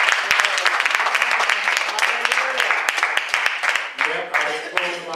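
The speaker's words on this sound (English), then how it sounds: "Give God a hand clap." A church congregation claps and applauds steadily throughout, dense overlapping hand claps filling the room, with voices and shouts of praise mixed in.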